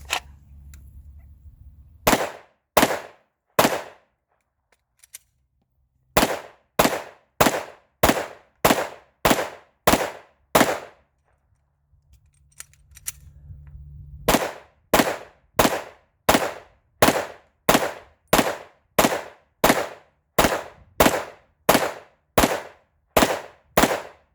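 A SIG handgun fires during break-in shooting: loud, sharp shots in quick, evenly spaced strings, about four, then eight, then a long run of a dozen or more, with short quiet pauses and faint low rumble between volleys.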